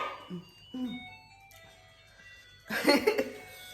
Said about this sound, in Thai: รถไอติมมาแล้ว